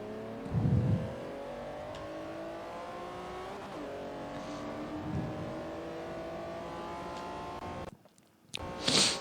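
Race cars in Forza Motorsport 4 racing against a Koenigsegg, engines revving and climbing through gears with steady pitched whine, a couple of shifts and a brief cut near the end before roaring back.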